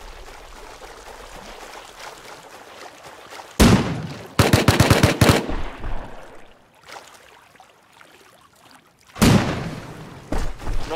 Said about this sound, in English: They're firing rockets to the tower because they can't get back in.